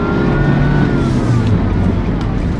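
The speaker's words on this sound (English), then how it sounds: "if y'all just heard my car, you would know" A car engine revving and running loud and close, a steady throaty roar with rising and falling pitch throughout, with no talking over it.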